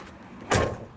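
A bullnose Ford F150 truck door swings shut with a single solid thud close by, a sharp burst that fades quickly into quiet, with no one talking.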